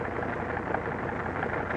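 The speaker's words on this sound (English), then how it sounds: "The sound of the engines warming up starts before dawn, echoing back from the mountains that flank the field." WWII bomber aircraft engines warming up before dawn on an airfield flanked by mountains in the Aleutians, a steady broad droning roar with no breaks, distant and reverberant.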